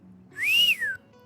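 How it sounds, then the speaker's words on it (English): A single rising-then-falling wolf whistle from an animated ninja story, clear and fairly loud, lasting about half a second over a quiet background. "Naruto would whistle."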